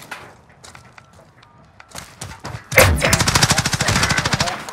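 Rapid automatic gunfire in Call of Duty: Modern Warfare, a loud sustained burst of evenly spaced shots in a Search and Destroy match with an M4, following a few scattered quieter thuds and shots.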